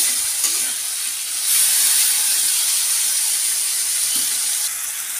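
Shrimp cook under a lid in a pan, giving a continuous close hiss of steam and sizzling as released water boils off, fairly loud and steady, with no talking.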